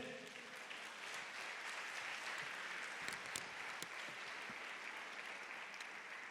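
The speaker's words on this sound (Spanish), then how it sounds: "Da un aplauso a Dios." Steady wash of congregational applause filling a church during a Spanish-language sermon, dense and even throughout with occasional sharper claps standing out near the front.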